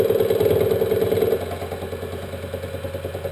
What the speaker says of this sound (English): show you that little mill is capable of cutting into bright mild steel